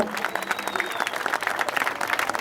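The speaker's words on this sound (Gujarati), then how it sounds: "જોરદાર તાળી પાડજો" A crowd at a cricket league match applauds loudly in a dense, continuous patter of clapping, with a voice briefly audible at the start.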